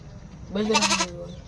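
A sheep gives one short, wavering bleat, mid-distance, over a low rumbling background noise, from one of seven sheep being transported near Halvad.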